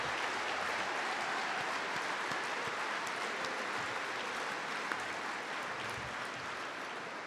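Graduating cadets and crowd applaud in sustained, dense clapping throughout, fairly distant and even, with no voices over it.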